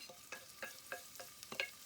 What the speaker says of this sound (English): And we're going to let it sizzle for just a couple minutes.